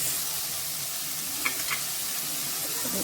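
Chopped tomatoes with salt sauté in a pan for mutton bone soup, a steady soft sizzle heard up close with a couple of brief stirring clinks, and nobody speaking.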